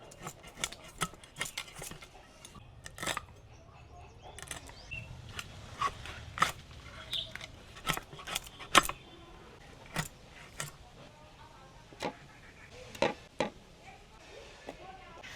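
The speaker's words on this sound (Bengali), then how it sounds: "এই মাছের কাঁটাগুলো বেশ শক্ত, একে খুব সাবধানে কাটতে হবে।" Sharp clicking and scraping knocks of a knife cutting through an aar fish with hard bones in a home kitchen, a string of irregular close taps, fairly quiet, with soft background noise between strikes.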